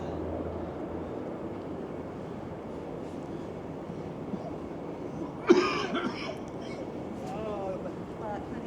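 A man nearby gives a short burst of rough coughing over a steady outdoor city rumble, with faint voices around, on a street in Toronto's St. Lawrence neighbourhood.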